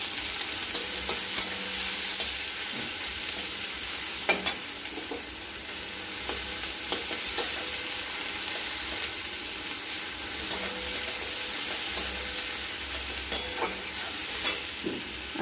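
Chopped onions fry in hot oil with cardamom, cinnamon and cloves in a pan for egg pulao, a steady bright sizzle broken by occasional stirring scrapes and clinks.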